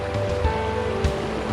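Water rushes steadily beneath a wire-mesh trail bridge on the Bruce Trail's Iroquoia Section, a close, continuous splashing wash with faint knocks of footsteps on the bridge.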